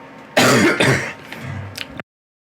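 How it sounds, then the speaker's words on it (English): A single harsh cough or throat-clear bursts out close to the microphone, with a second rough push and some fading breathy sounds before it cuts to silence. "it didn't mute me when I coughed"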